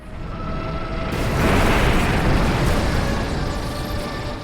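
Godzilla's purple atomic breath attack in Shin Godzilla, heard as a loud, roaring blast that swells to a peak and then holds in a broad rumbling rush, with no talk.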